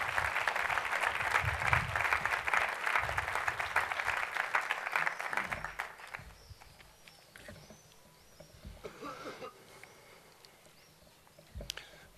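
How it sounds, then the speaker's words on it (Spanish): An audience at a book presentation marking fifty years of EVA 9's history breaks into warm, dense applause that holds steady for about six seconds, then thins out and fades into scattered claps and quiet room noise. "Les pido un cálido aplauso para nuestro querido José Miguel."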